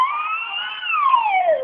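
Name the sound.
child imitating an ambulance siren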